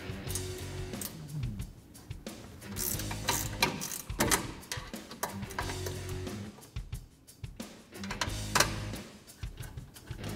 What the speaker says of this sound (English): another tool you might want to try is if you have a ratcheting wrench